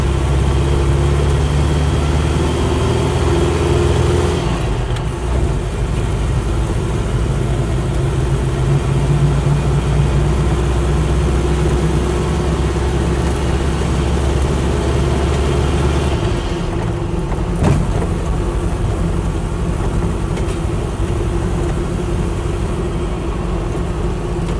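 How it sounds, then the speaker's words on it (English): A Land Rover Series III with a V8 conversion, running without air filters, gives a steady, loud engine drone with an induction roar that rises and falls slightly in pitch as it drives along. "There is a bit of induction roar from the engine because it is running without filters on it."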